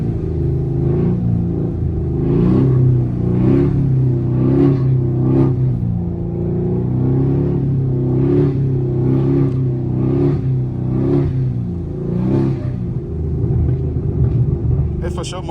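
A Chevrolet Camaro 2SS rumbles from inside while driving through city streets, its deep engine droning steadily with rhythmic surges as it revs, loud and close, while voices talk over it.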